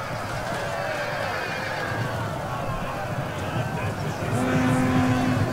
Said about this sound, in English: Noble horse!